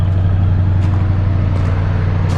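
A 1950s Lincoln car engine running with its original exhaust, a steady, loud low rumble and even idle throb held close throughout, with faint brief hiss bursts over it and no talking.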